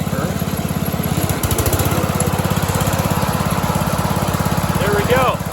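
A John Deere 100 lawn tractor running with its mower deck engaged, a loud steady pulsing engine drone close by, with a person talking over it near the end.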